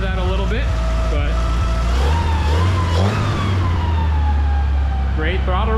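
A propane-fuelled Suzuki Samurai engine idles loud and close, a steady low drone whose pitch rises briefly as the revs climb, with a person speaking over it.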